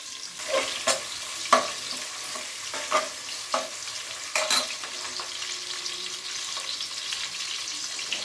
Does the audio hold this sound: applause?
no